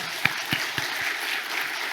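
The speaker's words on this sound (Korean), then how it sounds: "열심히 잘하시라고 박수 한번 드립시다" A church congregation applauds during a Sunday morning service, a short burst of dense clapping from a crowd that holds steady for about two seconds with no voices over it.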